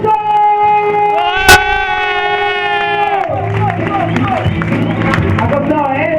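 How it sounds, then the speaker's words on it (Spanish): A crowd at a street dance battle cheers and claps loudly. A sustained shout rises first, then dense applause and whoops carry on to the end, with voices mixed in. "¡Aplausos!"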